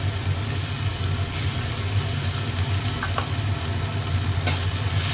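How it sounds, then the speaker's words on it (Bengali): Ginger, garlic and chili paste sizzling in a pan, a loud continuous dense hiss with a low steady hum underneath and a few faint clicks of stirring. "এর মধ্যে দিয়ে দেবো আদা রসুন লঙ্কার পেস্ট।"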